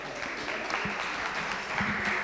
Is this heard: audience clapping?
yes